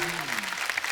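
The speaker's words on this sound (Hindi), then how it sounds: "जोरदार तालियां।" A studio audience on a Hindi comedy talk show claps in a brief, dense burst of applause, with a host's voice carrying over it.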